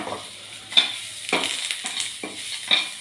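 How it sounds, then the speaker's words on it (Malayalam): Crushed shallots and dried red chillies frying in oil in a pan, a close continuous sizzle with several scraping stirs spaced through it, with no talk. "ഇത് ചെറിയുള്ളി ഉണക്കമുളക് ചതച്ചതൊക്കെ വറുക്കുമ്പോൾ"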